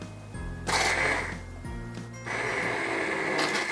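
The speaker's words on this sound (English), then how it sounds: "you can use one of these blender." A countertop blender purees homemade tomato sauce in two loud, whirring bursts, each about a second or more long, with a steady motor hum between them.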